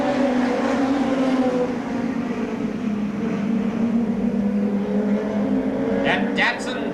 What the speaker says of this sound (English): this is open wheel racing right here with these tremendously fast 4-cylinder cars